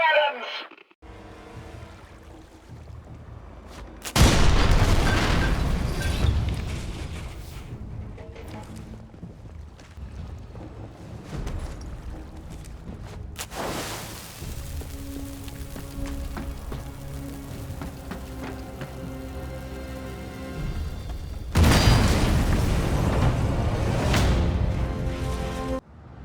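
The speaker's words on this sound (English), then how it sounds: "That flak's thick enough to walk on!" Anti-aircraft flak bursting around a bomber run in a Sniper Elite: Resistance cutscene: heavy, booming blasts arrive in two loud waves over a constant rumbling drone of aircraft engines.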